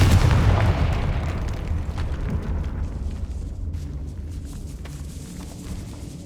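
A Confringo fire spell in Hogwarts Legacy goes off in a loud, deep explosion at the start, then its rumbling roar slowly decays under crackling debris and faint ticks.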